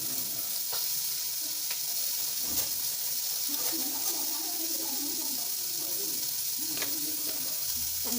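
Ginger garlic paste sizzling in a hot pan, a dense continuous hiss and crackle with scattered stirring taps, close and steady throughout.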